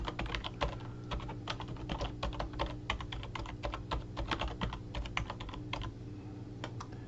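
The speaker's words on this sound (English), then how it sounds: "you type in the name of the recipient in the to column" Steady bursts of typing on a computer keyboard while entering an email recipient's name, close and clear, irregular rapid keystrokes with brief pauses, no talking.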